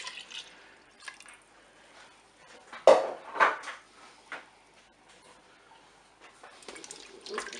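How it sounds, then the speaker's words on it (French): Milk is poured into a Cookeo cooker pot of rice, a quiet liquid pour with soft drips, punctuated by a sharp clink of metal and a few scattered clatters near the start and end. "Je verse le lait dans la cuve."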